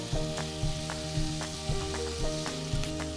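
Steady frying sizzle of steak in a hot stainless steel Demeyere pan, close and continuous, with soft periodic scraping or bubbling bursts roughly every half second.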